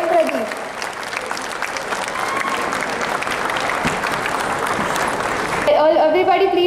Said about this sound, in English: applause, let's welcome the Head of Aerospace Department, Professor A.M. Pradeep.